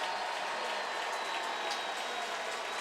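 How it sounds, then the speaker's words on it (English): Oklahoma fans cheering in a packed football stadium at a game against Auburn, a broad steady crowd roar with scattered shouts, loud and continuous without pause. "OU fans are cheering."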